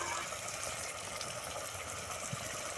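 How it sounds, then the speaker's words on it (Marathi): Water poured into a pot of chicken rassa curry, a brief continuous gushing splash that stays close and steady for a few seconds. "पाणी घालून घेऊया"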